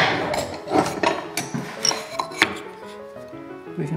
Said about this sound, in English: My bevel edge chisel. Clean that up.